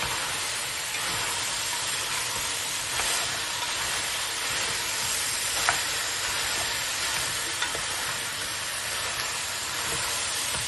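Food fries steadily in a pan, a constant crackling sizzle with occasional sharper pops, close by and with no talking.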